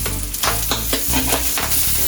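Pork belly sizzling loudly in a hot pan after being flipped and doused with braising liquid, a dense continuous crackle and hiss with quick bursts of movement throughout, close and alone.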